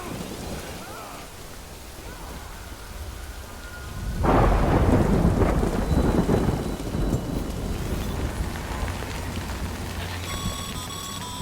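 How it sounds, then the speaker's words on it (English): Rain and thunder in the video game Death Stranding: steady rainfall hisses, then a loud rumbling thunderclap breaks in midway and rolls on under continuing rain, with no talking. "Good thing it was raining."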